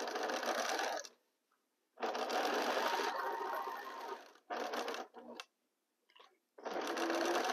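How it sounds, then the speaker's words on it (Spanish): A sewing machine stitches fabric in several loud, sustained bursts separated by short pauses, with a brief stop-start run near the end. "vamos a empezar a coser nuevamente"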